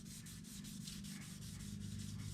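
Sandpaper rubbing over automotive paint to take out a dirt nib, a close, steady scratchy back-and-forth rasp in quick regular strokes, with no voices.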